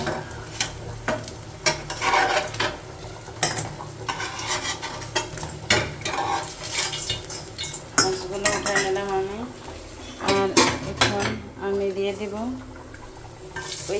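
Fried potatoes and fish are lifted out of a pan of hot oil, a metal utensil clinking and scraping against the pan in repeated knocks over a soft sizzle, with occasional speech nearby.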